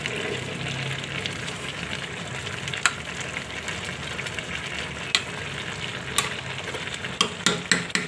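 Malabar spinach cooks with hilsa fish head, tail and potato in a pan, giving a steady soft sizzle as it is stirred, with a few sharp utensil clinks near the end and no talking.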